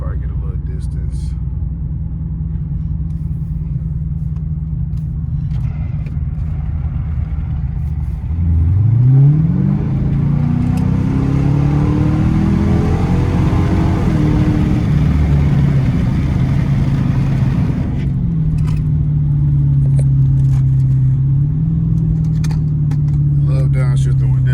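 A Dodge Challenger R/T with a straight-pipe exhaust, in sport mode in traffic, growls at a steady idle and then revs hard into a loud, rising, raspy pull before settling back to a throbbing cruise, with voices under it.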